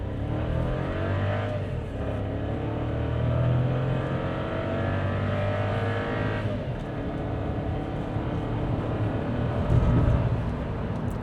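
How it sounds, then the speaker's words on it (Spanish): Volkswagen Virtus with a turbo engine accelerating hard from a brake-held launch toward 100 km/h, a steady loud engine drone rising through the gears, heard from inside the car. "Frenamos completamente, pero en el freno aceleramos fuertemente"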